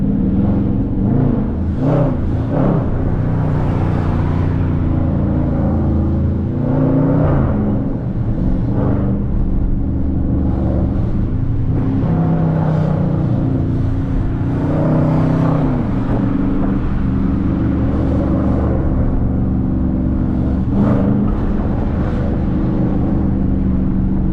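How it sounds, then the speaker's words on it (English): A Dodge Charger R/T's deep, rumbling engine runs steadily throughout, with occasional revs rising and falling as the car drives through city streets. "I swear my car sound like a track hood"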